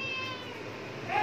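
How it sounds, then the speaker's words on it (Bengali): A cat meows close by, a single drawn-out tonal call over steady household background noise, with no one talking. "তুমি যে ম্যাও ম্যাও করো"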